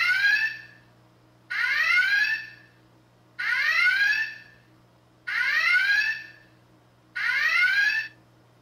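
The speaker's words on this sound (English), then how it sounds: "I'm going to demonstrate the red alert first so you can see the lighting effect and the sound of the klaxon." Repeating red alert klaxon from a Star Trek original series Enterprise bridge light and sound board: five rising whooping blasts at a steady rhythm about every 1.9 seconds, loud and alone over a low hum.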